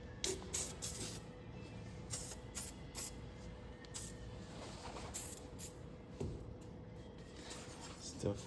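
Silicone spray hisses onto the couplings of an FJ40 in quiet, repeated short bursts, with people talking at a low level underneath.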